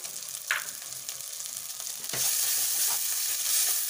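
Masala mixed with chopped tomato stir-fries in a pan for a cauliflower and egg curry, starting as a moderate sizzle with scraping stirs and turning into a louder, denser frying hiss halfway through.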